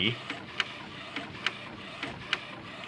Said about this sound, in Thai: ก็ยังพิมพ์ออกปกตินะครับ ทุกสี